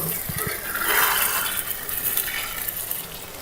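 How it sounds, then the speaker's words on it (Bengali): Water poured into a pan of chicken bhuna that had been cooking down in oil, a soft broad splashing rush that swells near the middle and settles into a steady hiss. "এখন আমি অল্প পরিমাণে জল দিব।"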